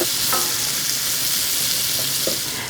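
Onions with black pepper cooking in a pan hiss with a constant close sizzle, broken by a few faint scraping clicks of a utensil across the bottom.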